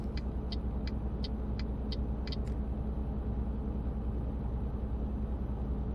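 A truck engine in Euro Truck Simulator 2 idles with a steady low rumble, joined early on by a series of light regular clicks that fade out, ending in a brief thump.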